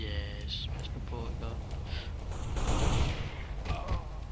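In the video game CS:GO, a burst of rapid gunfire swells near the middle of the clip. Players' voices chatter and whisper over a steady background.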